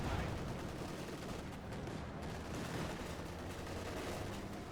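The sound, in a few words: machine gun fire in Company of Heroes 2 video game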